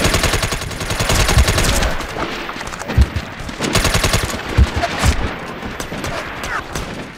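Repeated gunfire from a shotgun and other weapons in the PS3 shooter MAG during a Sabotage battle: loud, close blasts in rapid bursts with sharp individual reports and brief pauses, heavy combat din throughout.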